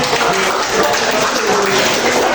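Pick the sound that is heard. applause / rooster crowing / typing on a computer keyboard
applause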